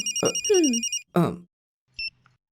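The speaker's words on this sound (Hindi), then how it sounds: "Madam phone." A telephone rings with a repeated electronic trill, while a voice speaks briefly over it, then a short final ring.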